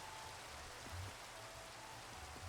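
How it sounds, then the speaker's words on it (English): Steady, faint rainfall in the Minecraft video game, a soft continuous hiss of drops with no voices. "Oh, wonderful. It's raining."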